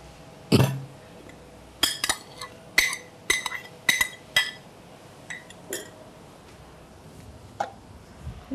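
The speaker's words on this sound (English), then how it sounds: "I'm going to take this bowl." A bowl in a home kitchen is picked up and set around, giving a string of sharp ceramic clinks and taps, some in quick pairs, close and crisp over quiet background, then a couple of softer knocks.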